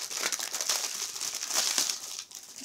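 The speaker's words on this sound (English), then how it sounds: "this plastic makes such a bad noise on the camera" Plastic packaging around Harry Potter pillowcases crinkles and crackles continuously close to the microphone, a steady bright rustle with small bursts and no speech.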